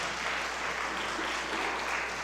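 A church congregation applauding during a worship service, a dense, steady wash of clapping that holds evenly throughout, fairly soft and diffuse.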